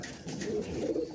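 Giribaz pigeons, with a few Madras birds among them, coo in a brief, low, throaty burble from close range at a home loft.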